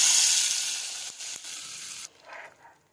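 Hot tempering of oil with dried red chillies and sesame seeds is poured over handvo batter mixed with baking soda, giving a loud, close hissing sizzle that fades over about two seconds into a faint crackle.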